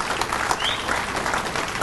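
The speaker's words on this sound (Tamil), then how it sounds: "அவங்களுக்கு ஒரு பலத்தை கைத்தட்டுங்க" Audience clapping at a talk on natural farming, a continuous patter of many hands at moderate distance, fairly soft and steady.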